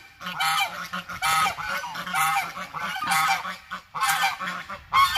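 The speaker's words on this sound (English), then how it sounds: "I put the geese back out here on pasture." Geese on a front-yard pasture honk loudly and repeatedly in overlapping bursts, a close, noisy flock calling throughout with brief gaps between outbursts.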